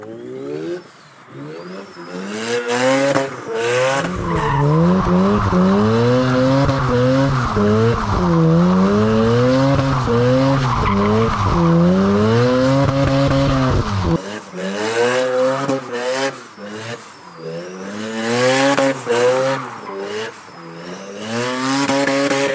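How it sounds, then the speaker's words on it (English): A Mazda RX7 on sticky Time Attack tires doing donuts: loud engine revving and wavering, drawn-out tire squeal, close by and continuous, dipping briefly before surging again. "I'm trying to do donuts on my Time Attack tires and they're too freaking sticky"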